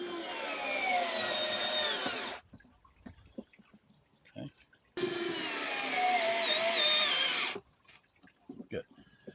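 An Ikuby push drive screwdriver fitted with its own bit spinning Phillips screws in two long, steady ratcheting whirs of a couple of seconds each, separated by quiet pauses with small handling knocks.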